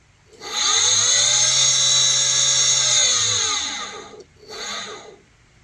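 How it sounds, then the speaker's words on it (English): A small electric motor in an RC submarine, freshly powered by an 11.1 V lithium polymer battery pack, whines loudly at high RPM for about three seconds, winds down, then revs again in a short burst. "you can hear the difference in the motor RPMs there now"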